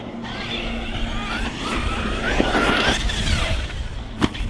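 A Hobby King Berserker RC car runs on a 4S battery, its motor whining steadily and rising in pitch as it picks up speed over grass, with a sharp bump near the end and no talk.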